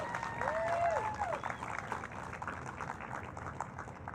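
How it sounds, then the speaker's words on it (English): Applause from the crowd at a Pride March in International Falls and Fort Frances, steady dense clapping that runs the whole time, with a whistle or cheer rising over it early and voices mixed into the noise. "please give a round of applause"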